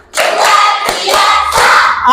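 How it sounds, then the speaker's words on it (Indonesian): Schoolchildren in a classroom clap their hands in a counted patter led by their teacher, several sharp claps landing close together over chanting voices. "Tepuk 1, tepuk 2, tepuk 3, tepuk 4, tepuk 5."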